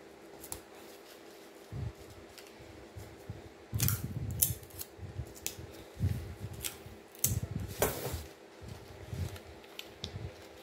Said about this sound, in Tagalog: Dahan-dahan ka dyan sa gupit mo.